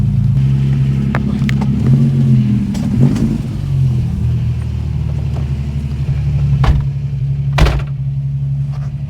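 A 37-year-old Ford Capri drives down the road, its engine a loud steady rumble and drone with some revving swells and a couple of sharp knocks, close and without talk.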